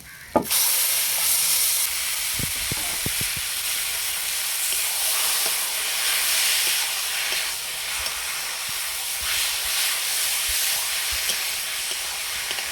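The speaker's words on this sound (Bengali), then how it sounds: "এবার আমি কচু শাকটা দিয়ে দেব" Taro greens drop into a hot pan with a sudden loud burst of hiss, which settles into a strong steady sizzle with occasional stirring knocks.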